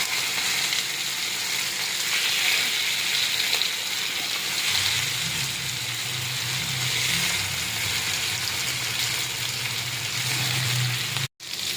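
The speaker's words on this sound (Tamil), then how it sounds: "சங்கரா மீன் வறுவலுங்க." Sankara fish fries in a hot pan with a dense, steady sizzle that thickens with crackling partway through, close and continuous until a sudden cut near the end.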